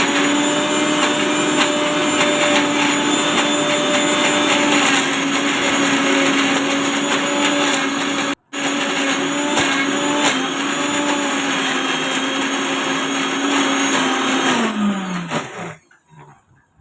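An electric mixer grinder whirs loudly and continuously, grinding prawn pickle masala with no water, a steady high motor whine with a brief break that then winds down at the end.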